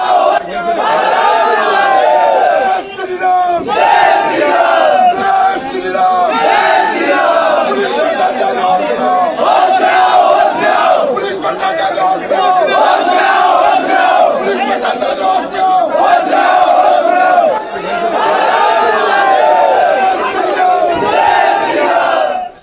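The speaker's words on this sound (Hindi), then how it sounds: "लोग बाहर खड़े होकर जय श्री राम के नारे लगा रहे थे" A large crowd gathered outside a house, chanting Jai Shri Ram slogans, roars loudly and continuously for over twenty seconds, with many voices shouting together and overlapping chatter throughout.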